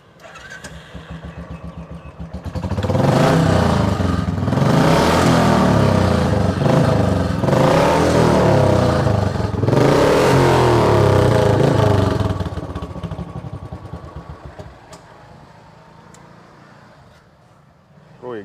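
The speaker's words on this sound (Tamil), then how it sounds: "பைக் ஸ்டார்ட் பண்ணி காமிக்கிறீங்களா?" A restored Royal Enfield Classic 350 motorcycle engine cranks and fires up, then revs loudly in several surges before settling back toward idle, fairly close by.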